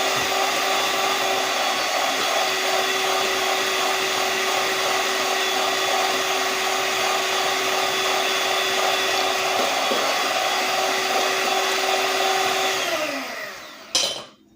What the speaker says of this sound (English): We're going to beat the egg whites.